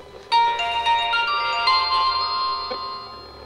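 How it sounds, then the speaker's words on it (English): A flip phone powering on plays a short bright melodic start-up tone, close and clear, fading out over a few seconds in a quiet room. "Turning on the phone"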